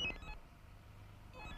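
A cordless telephone rings in short electronic trills, one burst at the start and another near the end, clear and fairly close with a quiet pause between.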